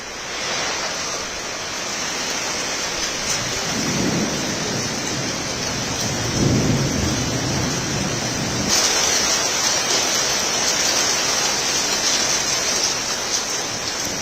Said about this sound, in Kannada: ಈಗ ಆಲಿಕಲ್ಲು ಸಹಿತ ಧಾರಾಕಾರವಾಗಿ ಕಳೆದ ಅರ್ಧ ಗಂಟೆಗಳಿಂದಲೂ ಹೆಚ್ಚು ಕಾಲ ಭಾರಿ ಮಳೆ ಆಗ್ತಾ ಇದೆ